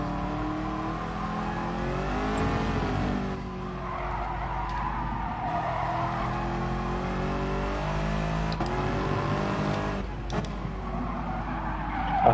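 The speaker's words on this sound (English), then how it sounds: "I'm just trying to warm my tyres up. Do a bit of sliding." A race car engine droning and revving steadily in a racing game, with tyres squealing and sliding through corners, loud and close with no talk over it.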